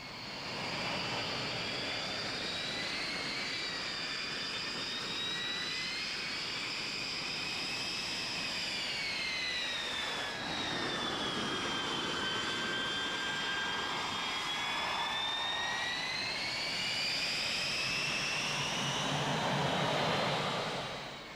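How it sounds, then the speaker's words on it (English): L-39 Albatros jet of the Slovak Air Force's Biele Albatrosy display team at an air show, a loud sustained engine whine rising and falling in pitch as it passes overhead and banks, steady throughout with no talk. "And this is the L-39 Albatros aircraft from the Slovak Air Force."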